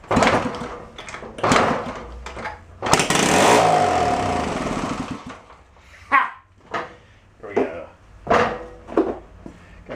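A 1972 Honda SL 125 motorcycle engine with an exhaust leak fires up close and loud, revving in a sustained roar for a couple of seconds, then sputters in short irregular bursts as it struggles to keep running.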